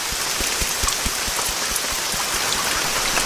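Steady, heavy rain pours down with dense drops pattering on a surface, constant and close throughout with no voices.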